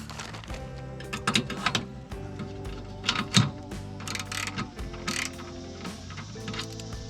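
Two wrenches work an 11/16 bolt on a travel trailer stabilizer jack, one wrench holding and one turning, giving quick clicking ratchet-like metal taps in uneven bursts close by.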